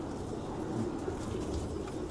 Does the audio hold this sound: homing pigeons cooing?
yes